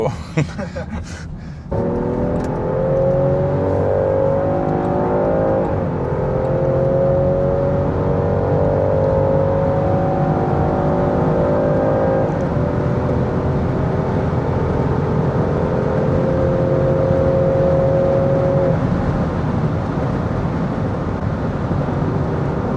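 Inside a moving Land Rover Defender 110, a steady engine hum climbs in pitch through several gear changes, layered over constant road and tyre noise. The sound stays close and even, with faint talk at times.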